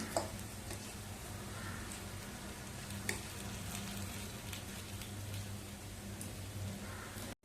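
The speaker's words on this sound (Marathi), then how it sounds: "आपण आता पुन्हा एकदा परतवून घेऊया उलटवून घेऊया" Mixed vegetable vadis frying in a pan, giving a steady, crackling sizzle throughout with a soft clatter partway through as pieces are flipped, close and fairly quiet.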